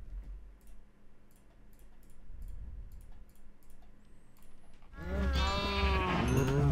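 Sheep bleating in the video game Minecraft Feed the Beast: a quiet ticking rhythm, then loud, close, wavering bleats near the end.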